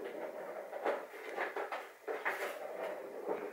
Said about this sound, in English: That's my cat playing with his toy in the background.